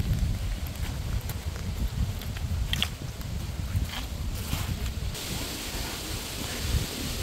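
Gusty wind blows steadily across an outdoor microphone near a playground in a shady park, a constant low rumble with brief louder buffets and no speech.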